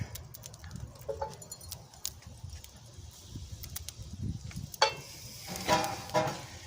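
Butter sizzling in a hot pan while searing a rib eye steak, crackling pops and spatters over a low steady hiss, with a few louder clinks toward the end.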